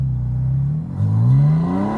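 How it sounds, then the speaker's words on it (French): A Porsche Spyder RS pulls away from a start, its engine note climbing steadily as it accelerates, loud and close, with a second rising surge after a brief dip; no talking. "Allez, un petit démarrage sympa."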